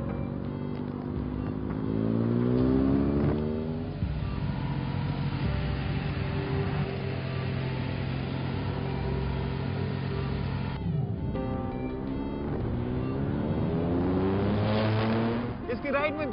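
A Triumph naked streetfighter-style motorcycle of roughly 100–130 horsepower revs while being ridden, its engine note rising and falling through the gears under a voice talking over the ride.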